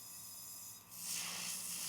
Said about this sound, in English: So spraying out the gun again